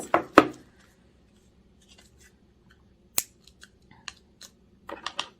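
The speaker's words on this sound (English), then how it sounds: "Let's go ahead and cut off this little wrapper here." Scissors snip the plastic wrapper off a new oracle card deck: a few sharp close cuts at the start, a loud snip in the middle, then scattered light rustles and clicks with quiet gaps between them.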